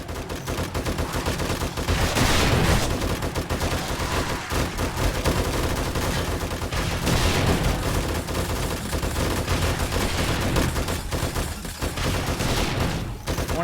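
Sustained gunfire with armour-piercing ammunition in the zombie survival video game 7 Days to Die, a loud, dense, unbroken barrage of overlapping shots from several guns lasting the whole stretch.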